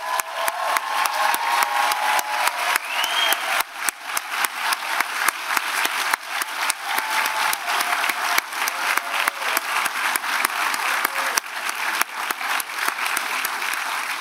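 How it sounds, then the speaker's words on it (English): Audience applause fills a white coat ceremony for nursing graduates, a dense, steady wash of many hands clapping at full volume throughout, with no speech over it. "Let's give him another round of applause."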